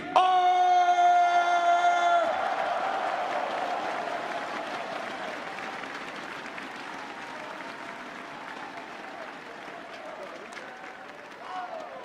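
Large esports arena crowd at a Tekken 7 world championship grand final bursts into applause and cheering, loud and sustained, with a sharp musical tone sounding over the opening seconds before the clapping slowly thins.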